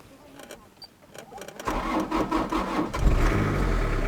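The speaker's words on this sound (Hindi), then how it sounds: "मैंने गाड़ी को स्टार्ट कर लिया" A 2009 Toyota Saloon SR car engine cranks and catches about midway, then settles into a steady, close idle hum that grows slightly louder.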